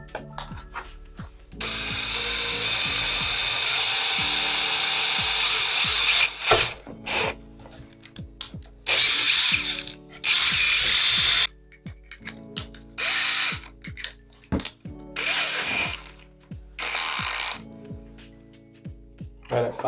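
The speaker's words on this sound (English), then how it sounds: "Now I just gotta drill in the hole for the camera." A power drill whirs in several bursts while drilling a camera hole in a 2016 Silverado, one long run followed by shorter stop-start pulses, with clicks and handling noises between them.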